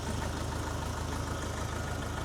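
A UHI tractor engine in the 65-100 horsepower class runs at a steady idle, a constant close low rumble with an even mechanical throb and no talking.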